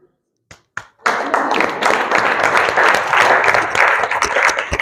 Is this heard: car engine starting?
no